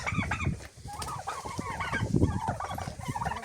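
Turkeys gobble repeatedly in rapid, bubbling bursts, close by and fairly loud, with other fowl murmuring around them.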